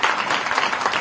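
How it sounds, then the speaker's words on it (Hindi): Studio audience applause at a televised Eid special show, a dense steady burst of clapping alone at full loudness. "बहुत सारी वाह, वाह, तालियां।"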